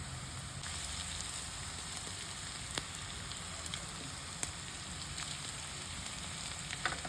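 Grated garlic frying in a pan for a Himalayan butter bean dish, giving a steady, even sizzle with faint crackles and a few sharp ticks of the utensil, fairly close and heard alone.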